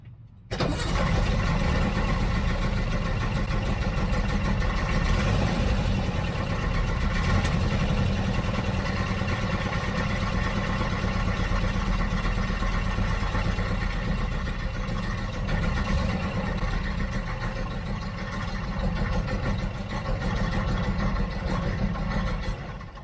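A 1967 VW Type 3 air-cooled engine cranks and catches, then settles into a steady, loud, continuous idle with a low rumble for the rest of the stretch, with no voices over it.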